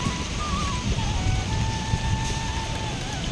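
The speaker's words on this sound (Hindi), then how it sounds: "बादल भी छा गए हैं, बारिश भी हो रही है।" Rain falls at an ashram on the bank of the Narmada river, a steady even hiss of drops with a soft low rumble beneath, continuous and fairly close.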